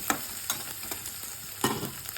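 Chopped ginger and onion fry in a pan with a steady close sizzle, broken by several sharp spatula taps and scrapes, and no voices.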